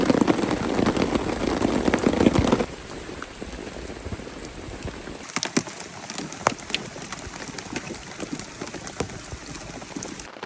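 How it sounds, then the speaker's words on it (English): Heavy rain pours onto the ground and camp gear at a wild river campsite, loud and dense for the first few seconds, then it eases to a lighter patter of scattered drops. "The crazy rainstorm is calming down."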